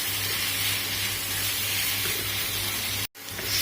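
Boneless chicken pieces for Kolkata-style chicken bharta sizzle steadily in a hot pan, a continuous close frying hiss that cuts out briefly near the end before resuming.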